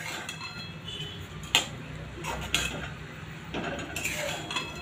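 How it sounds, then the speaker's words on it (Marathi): Boondi pearls being stirred into sugar syrup in a pan over a low gas flame for motichoor laddu, giving faint scraping and clinking of a utensil against the pan, with a few sharper taps over a steady low background hum. "छान बुंदी जी आहे ती पाकामध्ये मिक्स करून घ्यायची"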